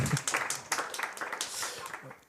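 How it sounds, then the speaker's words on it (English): Audience applause closes an evening talk on nuclear power: a soft, dense wash of many clapping hands, fairly distant and quiet, running steadily for a couple of seconds without fading out. "Okay, so yes, round of applause."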